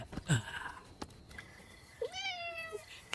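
A cat meows in a film scene. A short, sharp cry comes first, then a longer, drawn-out meow, both fairly close against a quiet background.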